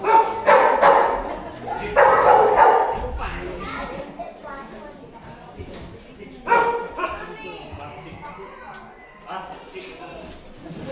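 Dogs bark and yip in short, loud bursts at a wildlife park, mixed with children's voices and people talking nearby.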